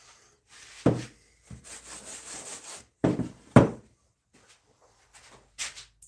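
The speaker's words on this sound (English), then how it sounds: "All right, I'll get back to sanding." Rough rubbing and scraping strokes of sanding wood come in bursts, some harsh and loud, separated by short quiet pauses.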